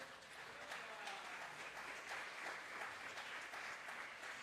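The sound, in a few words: church congregation applauding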